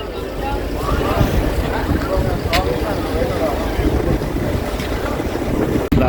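The MV Lagoons passenger ship at sea off Agatti island, Lakshadweep, with wind buffeting the microphone over a constant rumble of water and engine, and a person talking faintly.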